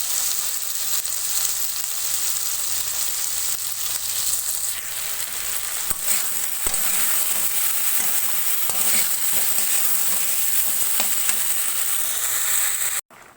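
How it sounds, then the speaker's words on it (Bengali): Fish and vegetables sauté in a wok, giving a loud, continuous sizzle with scattered scraping stir strokes, then an abrupt cutoff at the end. "নিয়ে কড়াতে সবজি দিয়ে দিয়েছি। এবারে এটাকে বন্ধুরা কষাবো"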